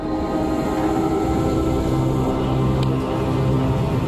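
A commuter train rumbles along steadily, a loud continuous rolling drone with faint metallic squeals, heard from on board or close by.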